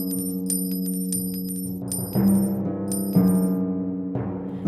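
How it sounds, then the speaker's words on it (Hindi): Gold coins counted by a giant, clinking and jingling in a steady run of metallic drops over a low musical bed, with no talk. "वो राक्षस अपने सोने के सिक्के गिनने लगा।"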